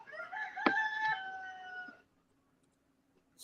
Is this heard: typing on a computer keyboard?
no